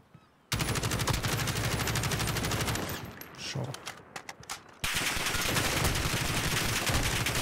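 In a shooting video game, bursts of rapid machine-gun fire rattle loudly and densely, break off into a few scattered shots, then resume as a sustained barrage.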